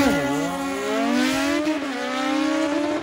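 Motorcycle drag race engines, Kawasaki ZX14 against another ZX14 or a Suzuki Hayabusa, screaming high as they rev and pull hard through the gears, loud and sustained for three seconds without talk.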